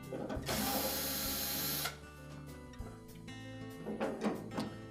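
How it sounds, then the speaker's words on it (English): A powered screwdriver whirs for about a second and a half, taking Phillips screws out of a Whirlpool dryer top. Lighter clicks and handling noises of the metal panel follow. "That will give us access to 2 Phillips screws that secure the top to the inlet duct assembly, and we'll need to remove those."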